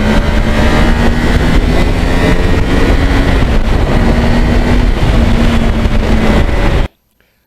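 A 2009 Yamaha R1 crossplane motorcycle engine roars steadily under acceleration, loud and close with heavy wind rush, holding a sustained drone for about seven seconds before cutting off abruptly into silence.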